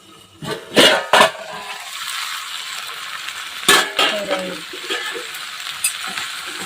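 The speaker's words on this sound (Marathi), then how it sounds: "आता त्याच्यावर झाकण ठेवायचं आहे" Cooking pan for a Marathi gavar (cluster bean) vegetable dish: several loud metallic clanks and scrapes as utensils and a lid are handled, over a low sizzle, with quieter rattles between the bursts.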